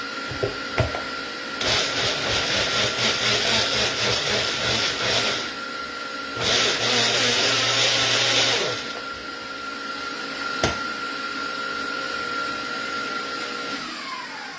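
A blender motor whirs steadily with two louder bursts of high-pitched whining, pulsing while whipping egg whites, then settles into a lower continuous hum with a brief click.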